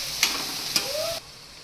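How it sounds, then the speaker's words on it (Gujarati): A beetroot manchurian mixture stirred in a pan, two sharp utensil scrapes against the metal over a soft close sizzle that drops away abruptly near the end. "પાકી જાય ને ત્યાં સુધી હલાવવાનું"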